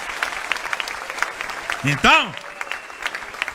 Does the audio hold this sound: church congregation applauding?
yes